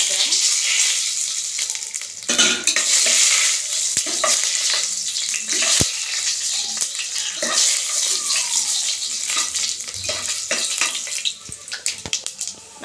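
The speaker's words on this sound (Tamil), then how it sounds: "எண்ணெய் காஞ்சா 2-3 லைட்டாக கடுகு, பட்டை, கிராம்பு, ஏலக்காய், லவங்கம் இதெல்லாம் நான் ஒன்றா போட்டு வதக்குறேன்" Mustard seeds, cinnamon, cloves and cardamom sauté in hot oil, a close, continuous crackling sizzle with bursts of spluttering and the scrape of stirring.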